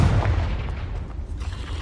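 A loud, rumbling Confringo fire-spell explosion in Hogwarts Legacy, a heavy low boom with a sustained crackling roll that fills the whole moment.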